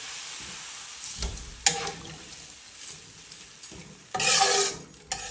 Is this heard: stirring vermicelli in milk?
yes